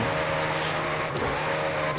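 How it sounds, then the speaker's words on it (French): A Ferrari 488 engine in Forza Horizon 5 revving hard near 9000 RPM, a loud, continuous high-pitched drone with a brief shift blip midway and no voices over it. "Le moteur sonne vraiment vénère. À 9000 tours, là, c'est quand même quelque chose d'assez sympa."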